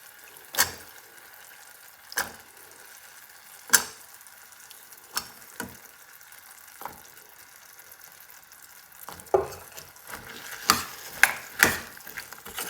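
Chopped bottle gourd and toor dal being stirred in a pan, heard as a handful of separate scraping knocks of a spoon against the metal pan over a quiet background, growing a little busier toward the end.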